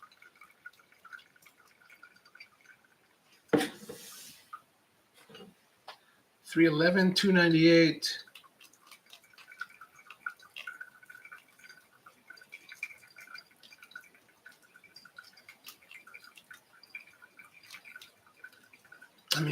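Water trickles and drips through ground coffee in a Mellow Drip pour-over dripper, soft and intermittent, with louder pouring bursts and brief talk in between.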